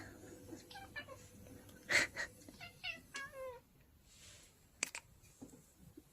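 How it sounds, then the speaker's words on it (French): A small cat meows a few times, quiet and a little distant, with short breathy calls over a faint hiss of room noise. "Ah, il y a un petit chat."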